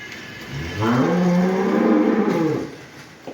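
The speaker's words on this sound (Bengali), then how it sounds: "এই একটা শঙ্কর জাতের গাবি ফলেস্টিন ফিজিয়ান" A Holstein Friesian crossbred dairy cow lets out one long, loud, nearby moo that rises, holds and fades, with quiet farm background before and after.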